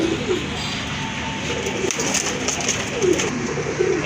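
Danish pigeons coo in low, repeated soft calls, steady throughout amid a busy, noisy pigeon market with general background hubbub.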